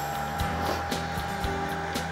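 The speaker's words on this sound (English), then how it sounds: "I'm going to take the dryer and blow this dry" A hair dryer drones steadily at close range as it blows paint dry on an NYC Hudson model, a constant motor whine with small pulsing variations throughout.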